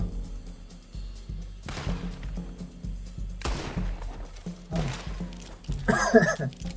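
Old-fashioned cowboy guns fire in Red Dead Redemption Online, loud broadband shots at about 1.7, 3.5 and 4.8 seconds, separated by low rumbling game ambience, with a busier burst of clattering noise near the end.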